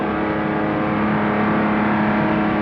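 A 1962 Aston Martin DB4 GT heard onboard on the Spa circuit at full throttle, a loud, steady engine drone holding a constant pitch through a flat-out left-hand bend.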